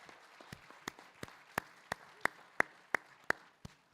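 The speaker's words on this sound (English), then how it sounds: "How about one more round of applause for our students?" A few hands clap for students at an education conference keynote: sparse, quiet, separate claps that settle into a roughly even rhythm, about a dozen in all.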